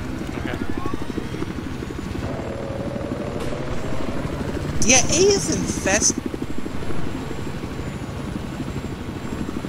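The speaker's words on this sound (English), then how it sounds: "I got the Scud helicopter" A helicopter in the video game Battlefield 4 thumps steadily with rapid rotor chop throughout, loud and close, while players talk over it and brief higher whines and clanks break in partway through.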